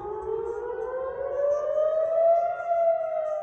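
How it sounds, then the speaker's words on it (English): A civil defense air raid siren wails steadily during a Hamas attack on Israel, its tone slowly rising and swelling, loud and carrying, with no voices. "thousands waking up to sirens and explosions"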